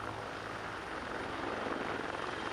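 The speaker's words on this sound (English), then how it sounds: "The chopper takes off, taking King away to hospital" A military rescue helicopter from the 1st Canadian Air Division's Joint Rescue Coordination Center in Trenton lifts off: a steady, loud rotor and turbine roar that stays constant and close for the whole stretch, with no voices.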